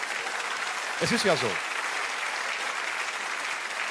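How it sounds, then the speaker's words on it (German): A live comedy show audience applauds steadily for the full four seconds, a dense, even clatter of clapping, while someone speaks a few words briefly in the middle. "dann klatschen sie halt"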